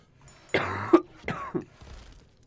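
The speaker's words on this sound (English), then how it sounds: "Still coughing" A man coughs in a few harsh bursts with some throat clearing, close and fairly loud, then trails off into quiet.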